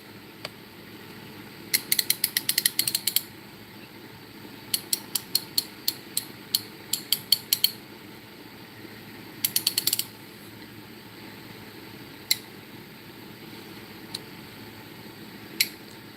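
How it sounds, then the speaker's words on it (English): A vintage ratchet wrench clicking in rapid bursts of sharp metallic ticks, several quick runs followed by a few isolated single clicks, close and clear over a quiet background, with no talking. "I do like the old vintage ratchets, I gotta say."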